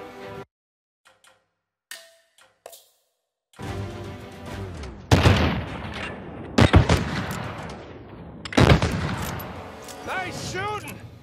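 Gunfire in a shootout in Uncharted 4: after a near-silent opening with a few faint ticks, bursts of loud shots start and several sharp, close reports cut through sustained firing, with a voice shouting over it.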